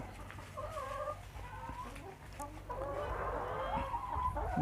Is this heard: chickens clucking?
yes